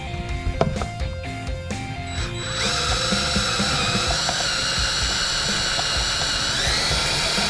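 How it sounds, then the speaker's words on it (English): Power drill boring out a pop rivet on an enclosed trailer's roof vent lid: a few ratcheting clicks and taps, then a steady loud whining drill grind that holds on and rises slightly in pitch near the end. "So I'm gonna drill out this pop rivet"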